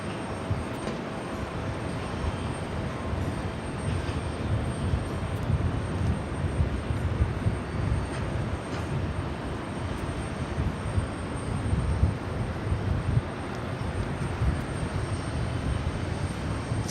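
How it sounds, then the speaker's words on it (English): A Turkish Airlines Boeing 787 Dreamliner takes off from runway 13 right at JFK, heard as a steady, fairly distant jet engine roar that holds for the whole stretch without voices. "Turkish Flight 4 heading back to Istanbul. Dreamliner now taking off"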